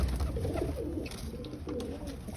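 A pet pigeon coos in a few low, rolling bursts close by, steady and unbroken by speech.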